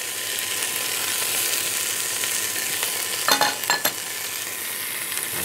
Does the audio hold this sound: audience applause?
no